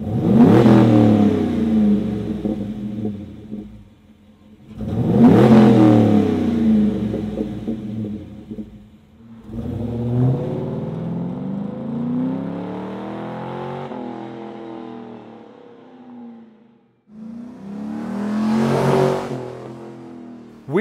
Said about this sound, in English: The Pro Series shorty mufflers are a terrific choice for muscle cars and other performance vehicles with limited space where great exhaust sound is desired